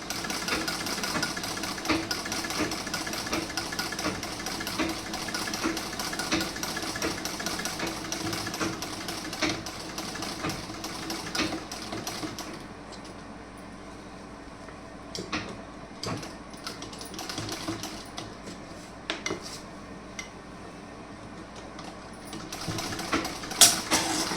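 Sewing machine stitching a blouse, a low, steady mechanical whirr and rattle running continuously at close range with small irregular bursts and pauses, no talk.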